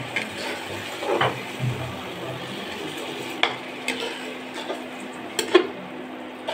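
Onion, chili and garlic masala is stirred in a pan with a little water, giving a low, soft simmer under intermittent spatula clinks and scrapes against the metal.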